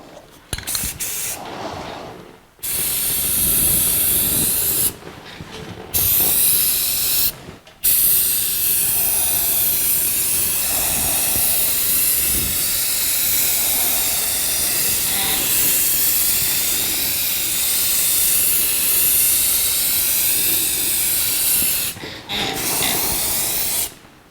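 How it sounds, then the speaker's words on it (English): Loud, steady hiss of a spray gun painting the firewall of a 1982 Jeep CJ7 in long bursts separated by short pauses, close and dominant throughout. "I'm going to spray all the joints first to make sure that I get them."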